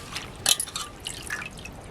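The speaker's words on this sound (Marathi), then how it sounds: "भाजी आहे ना अशी पाण्यातून काढून घ्यायची" Freshly picked leafy greens, grown without chemicals, lifted from a basin of washing water, with soft irregular drips and trickles falling back into the water, quiet and close.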